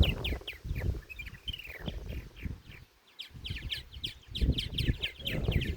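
Pet birds chirp and tweet in a rapid, busy stream of short calls, fairly close, with a brief lull midway before the chatter resumes alongside low rustling and handling noise.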